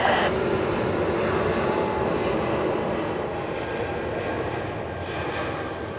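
A Korean Air Cargo Boeing 777 landing on runway 14 at Zurich, a broad continuous jet engine roar that fades slightly as the aircraft passes.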